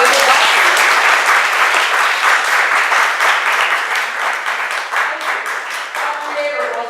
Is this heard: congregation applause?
yes